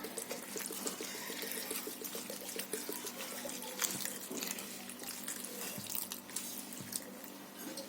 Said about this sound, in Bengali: এর মধ্যে আমি একটু জল দিয়ে দেবো